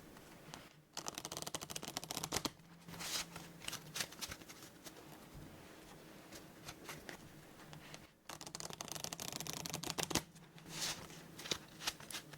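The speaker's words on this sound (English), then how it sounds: "So let's do one more shuffle, and then we'll deal out the game" Playing cards are shuffled up close and quietly: repeated riffles and bridging rustles, with two brief pauses between rounds of shuffling.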